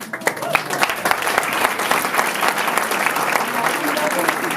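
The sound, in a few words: audience applauding at awards ceremony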